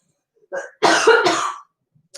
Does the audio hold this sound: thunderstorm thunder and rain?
no